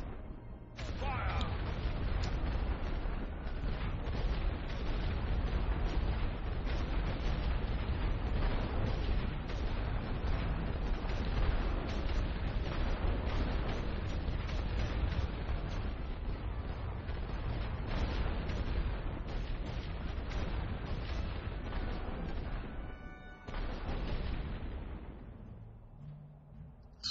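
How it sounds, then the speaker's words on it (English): An unbroken artillery barrage thunders in the World War I strategy game The Great War: Western Front, dense overlapping booms and blasts rolling on loudly for nearly the whole stretch before briefly dropping away near the end. "Fire all guns."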